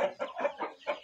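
A rooster in a cockfighting stable clucks in a quick series of about five close, throaty calls, evenly spaced, with no other sounds around it.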